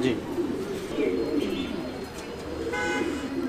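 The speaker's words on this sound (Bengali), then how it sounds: "তো ইউসুফ ভাই, এখানে আমরা এটা কি কবুতর দেখছি?" Almond and kite Jacobin pigeons at a fancy pigeon farm in Natore coo with low, soft, steady calls over a dense background hum, with a few brief chirps mixed in.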